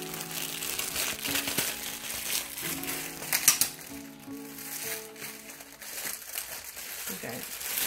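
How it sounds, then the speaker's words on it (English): Plastic product packaging crinkles and tears as it is pulled open, with bursts of rustling and crackling close by, mixed with someone talking. "I don't know why I always have a problem opening these packages."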